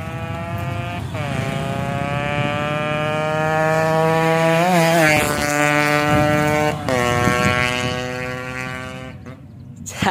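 A Yamaha RX100 two-stroke motorcycle with a modified silencer rides back toward the listener, its loud, buzzing exhaust rising and falling in pitch through several rev changes and gear shifts before briefly dropping away.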